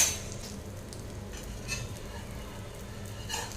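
An egg masala omelette cooks in a pan with a little oil drizzled over the top, giving a faint, steady sizzle along with light scraping and a soft clink of a utensil.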